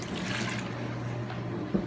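Half a cup of water poured into a lemon juice and white wine vinegar marinade, a steady close liquid splash and trickle lasting about two seconds with a faint clink near the end.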